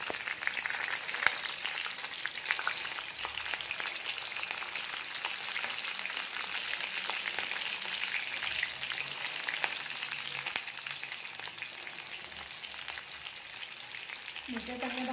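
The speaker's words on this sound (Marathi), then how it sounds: "आपण आता मिरच्या टाकूया।" Chopped green chillies crackle and sizzle in hot oil for sabudana khichdi, a dense, continuous frying hiss heard up close with small pops scattered throughout and a brief low murmur near the end.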